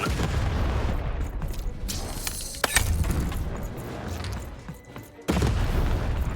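Cannon blasts in the video game Lost in Random, loud booming shots over a dense, constant wash of game noise, with one sharp report near the middle and a hard cut to renewed din near the end.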